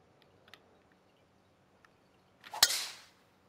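A single crisp club strike on a golf ball in PGA Tour 2K23, sharp and close, followed by a brief whooshing tail, set against quiet ambience with a few faint ticks before it.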